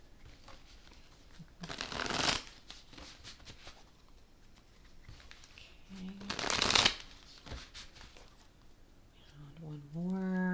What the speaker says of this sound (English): One more, and then I'll cut the cards and we'll begin.